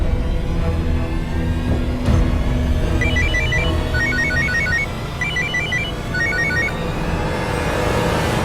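A mobile phone rings with an incoming call, giving repeated bursts of electronic ringtone over a constant background hum. The ringing is clear and fairly loud.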